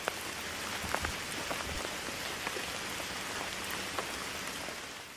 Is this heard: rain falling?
yes